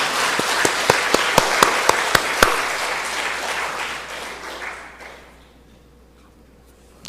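A church congregation at a Friday worship gathering claps in a brief burst, a run of sharp, evenly spaced hand claps over a broad wash of applause that fades away to near quiet.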